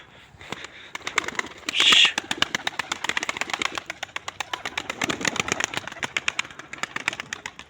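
A tumbler pigeon flutters and coos outdoors at dusk, with a rapid series of sharp ticking pulses and a brief louder burst early on, moderately close.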